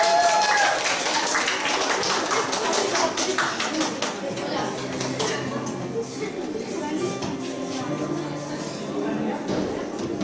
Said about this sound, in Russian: Поддержите, пожалуйста, аплодисменты